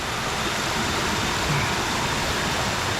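Kathu waterfall in the Phuket jungle, Thailand, during low season, with water rushing in a steady, loud, dense roar that holds constant throughout and has no voices over it.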